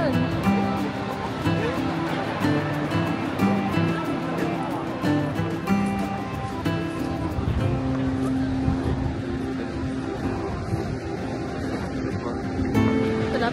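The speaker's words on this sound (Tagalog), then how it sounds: "Laki ng alon." Big ocean waves crash and wash along the coast at the Twelve Apostles in Victoria, a continuous broad roar with voices talking over it throughout.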